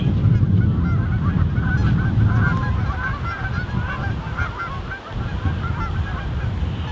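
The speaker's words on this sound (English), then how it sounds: "All the geese out there trying to stay warm." Geese honking outdoors on a cold day, a steady chorus of calls carrying over continuous low rumbling background noise for the full stretch.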